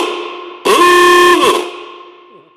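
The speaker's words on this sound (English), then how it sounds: "When you drive out of the neighborhood and he honks that horn" A loud, close horn blast from a 1919 Pierce Arrow Model 51 Roadster, a single sustained honk of almost a second that rings out and fades into a reverberant tail.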